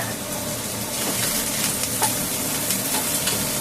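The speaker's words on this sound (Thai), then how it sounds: "ใส่แครอทนะ แครอทผัดไปค่ะ" Carrots stir-fried in a pan, sizzling steadily and close, with faint scraping of stirring throughout and no talking.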